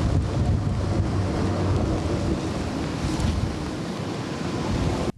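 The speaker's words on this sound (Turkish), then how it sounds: "Şimdi 120 kilometreye kadar hız yapan bir şişme botu deniyoruz." Inflatable speedboat capable of 120 km/h running fast at sea, a steady rushing roar of engine, spray and waves heavily buffeted by wind noise, no talk.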